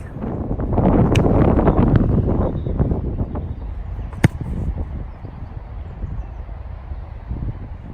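Wind blowing across an outdoor football pitch during goalkeeper goal-kick practice, a steady low rumbling buffet on the microphone that is strongest early, then eases into a softer continuous rush with one sharp knock midway.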